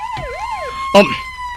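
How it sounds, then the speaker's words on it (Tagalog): A loud police car siren wails up and down in rising and falling sweeps, then cuts off into a sudden sharp burst of noise. "Pulis car?"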